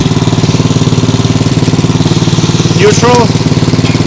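A Nibbi G619 walk-behind tractor engine idles close by with a steady, fast putter throughout, while someone speaks briefly over it.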